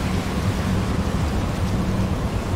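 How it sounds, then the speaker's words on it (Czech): Stormy weather in the video game Syberia 3: a steady, dense wash of rain and low rumbling thunder, loud and continuous throughout, with no voices over it. "sakra, tamhle nějaká bouřka"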